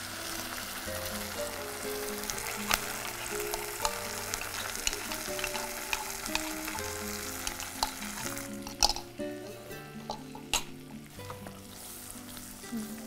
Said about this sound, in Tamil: தாளிச்சுட்டு இப்போ நம்ம அரைச்சி வச்சுருக்க அந்த விழுதை அதோட சேர்த்துக்க போகிறோம்.